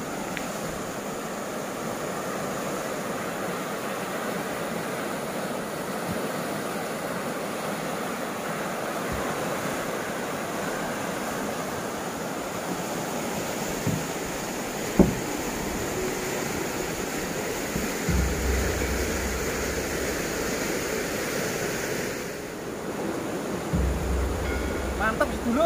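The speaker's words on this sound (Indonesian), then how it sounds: "Mantap sedulur, seger, airnya sangat deras sekali." A fast-flowing, very clear natural river at a tourist spot in a Javanese village gives a steady, broadband rush of water throughout, close and constant, with a brief sharp knock partway through.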